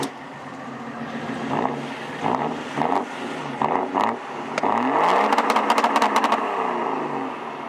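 A BMW M5 engine revs repeatedly outdoors in short, throaty bursts that rise and fall in pitch, then holds a longer sustained rev with crackling pops, with wind noise across the microphone throughout.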